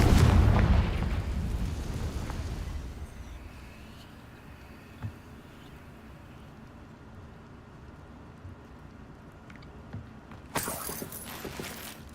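A Confringo fire spell from Hogwarts Legacy erupts as a loud rumbling blast at the start, then decays into a low crackling tail, with a smaller burst near the end.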